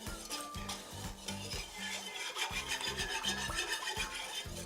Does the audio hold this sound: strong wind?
no